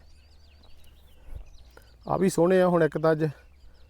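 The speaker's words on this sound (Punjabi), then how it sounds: "ਮੋਰ ਬਹੁਤ ਬੋਲਦੇ ਇਸ ਏਰੀਆ 'ਚ" Peacocks call near a dam in a hilly area of Punjab under cloudy skies: one loud, harmonic, wavering cry rises after a quiet stretch, close by and alongside a man's speech.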